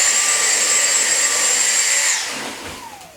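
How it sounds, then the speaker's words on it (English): A Dyson vacuum cleaner runs at full suction on a Ruggable rug, a loud steady whine with a high tonal edge lasting about two seconds before the motor spins down and fades. "Let's test out the vacuum."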